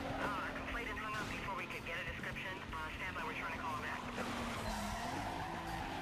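A car accelerating under nitrous boost in Need for Speed Most Wanted, with a rising engine whine and tire squeal over dense game music and effects, while a player talks over the action.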